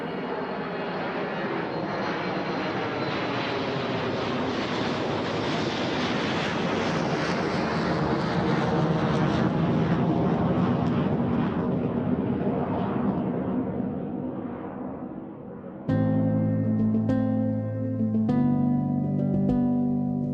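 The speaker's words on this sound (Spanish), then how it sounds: "por encima de ese nivel encontramos el ruido del despegue de un avión." A jet airplane roars loudly during takeoff, a broad swelling engine rush that builds and fades, followed by a steady whining engine tone near the end.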